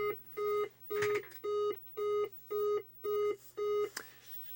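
Eight evenly spaced electronic beeps from a Centipede arcade board self-test, signalling a bad RAM chip, repeat in a steady rhythm, tonal and clear, with faint background noise.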